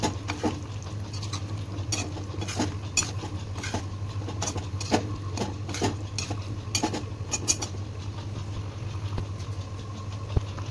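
Spoon stirring Assamese-style chicken curry with lemon juice in a pot, producing scattered metallic scrapes and clinks over a constant low hum of a stove or extractor, close and moderately loud, with no talking.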